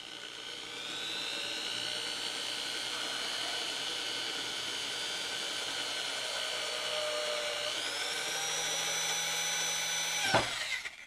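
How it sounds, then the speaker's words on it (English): A power drill bores slowly through a perch coupling for a parrot play gym, a steady high whine held for several seconds before the pitch shifts and a short clunk as the bit breaks through near the end. "I pretty much let the weight of the drill do all the work."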